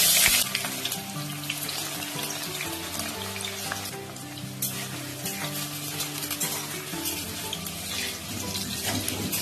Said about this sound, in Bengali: বেগুনটা আমি লাল লাল করে ভেজে নেব